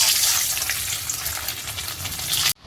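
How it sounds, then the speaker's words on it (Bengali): Paneer frying in hot oil for a home-cooked vegetarian lunch, giving a steady, close sizzle with bubbling crackle that holds for a couple of seconds before cutting off abruptly. "এবার আমি পনিরগুলো ভেজে নেব।"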